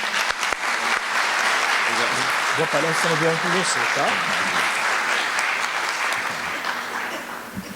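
Audience applause in an auditorium at a morning spiritist lecture, a dense steady clapping that fills the whole stretch, with a voice speaking briefly over it in the middle.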